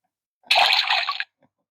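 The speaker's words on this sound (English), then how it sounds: "That's when it lands in the water." A desktop crazy golf toy plays its ball-in-the-water sound effect, a single close splashy burst lasting under a second, followed by a faint tiny drip.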